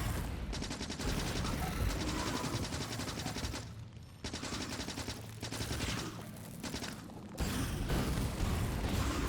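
Rapid automatic gunfire with armor-piercing ammunition in a video game, dense continuous bursts with short pauses between strings of shots, loud and close with no talking.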